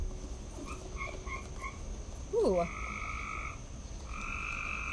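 Frogs croak in a few short calls around a quiet outdoor setting, with a soft voice briefly heard nearby.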